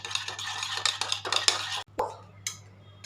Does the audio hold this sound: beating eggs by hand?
yes